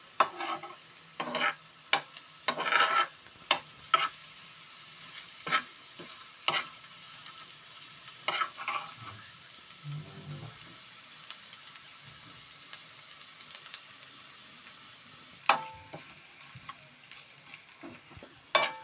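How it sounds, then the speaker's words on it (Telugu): Chopped onions frying in a pan with squeezed, boiled nalleru greens, a soft steady sizzle broken by repeated scraping stirs and light clinks, fairly quiet and close with no talking. "ఈ విధంగా ఎర్రగడ్డేసేసి బాగా వేపుకుంటాము"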